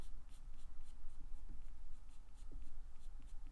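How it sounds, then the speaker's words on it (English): Colour pencil stroked very lightly across paper while drawing a tiger eye, a soft, steady scratchy rasp made of short repeated strokes, close and quiet. "in that lighter, you need to be barely stroking the paper"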